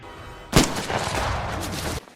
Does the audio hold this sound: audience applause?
no